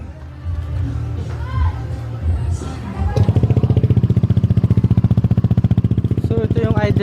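A Yamaha Aerox motorcycle with no silencer and a Zeus Apollo V3 exhaust starts and settles into a loud, deep, rapidly pulsing idle. Someone talks briefly over low background noise before the engine fires.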